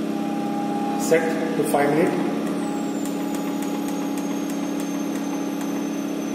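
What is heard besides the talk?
wear testing machine motor rotating the disc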